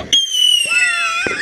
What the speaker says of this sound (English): firework, bottle rocket